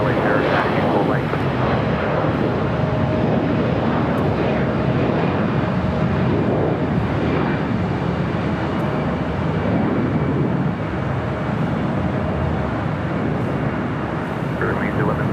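An airliner, Finnair 1 Heavy, roars steadily as it lands on runway 25 left at LAX, a broad sustained jet rumble throughout with radio talk over it.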